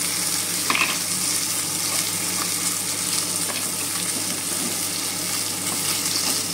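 Lentil dumplings (bori) fry in oil in a pan beside fish heads, a steady close sizzle with a brief louder crackle early on, no voices over it.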